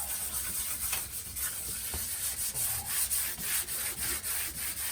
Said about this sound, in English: sandpaper, rag, brush, and we'll give it a scuff sand to clear any dirt, mildew, dust,